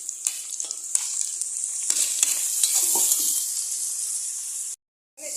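Ridge gourd sizzles and hisses steadily in hot oil in a pan with green chillies, with scattered scraping stir sounds and soft clatter, close and continuous before a brief cut to silence near the end.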